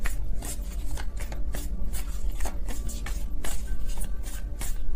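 Tarot cards being shuffled in quick riffling bursts, a steady papery rustle with repeated flicks, close up and continuous.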